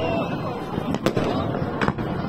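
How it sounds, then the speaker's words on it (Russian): Festive Victory Day fireworks and salute burst over the border river between Narva and Ivangorod, two sharp cracks standing out above a continuous crowd murmur and distant rumble. "праздничный салют и фейерверк над пограничной рекой сумели посмотреть еще больше жителей Нарвы"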